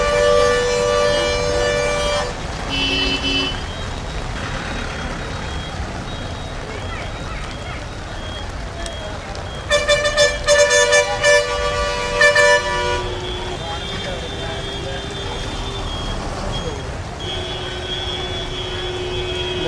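Vehicles jam a flooded street in Jaffna, Sri Lanka. Horns honk again and again, including a rapid cluster of toots, over a steady traffic rumble while someone talks nearby.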